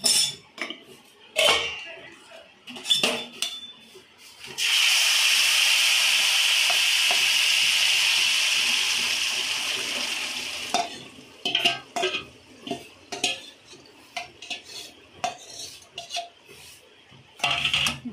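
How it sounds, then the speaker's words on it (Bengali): Pieces of chicken go into a pan after a brief stir, followed by a loud, sustained burst of sizzling that fades slowly, with spoon scrapes and clatter before and after; no voices. "এটাকে 5 সেকেন্ডের মতো নেড়ে এতে চিকেনটা দিয়ে দেবো"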